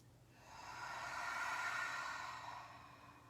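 A single long, slow exhale pushed out through the mouth during a yoga breathing exercise, a soft airy rush that swells and fades over about three seconds, close and alone.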